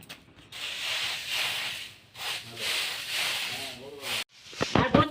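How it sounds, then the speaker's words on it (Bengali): Puffed rice sifted through a sieve at a village home, a steady broadband hissing rustle in long sweeps broken by brief pauses, close and fairly loud. "এই মুড়িগুলো হচ্ছে এই চালাটা দিয়ে চালবো"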